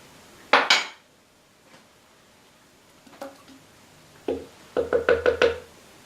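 A metal fork and spoon are pulled from a kitchen drawer, giving a bright clatter, a few scattered clicks, and then a quick run of ringing clinks, close and with nothing else around.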